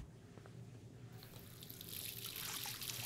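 Water from a tap runs into a sink in the video game Life is Strange, starting soft and then swelling into a fuller, steady splashing stream that lasts to the end.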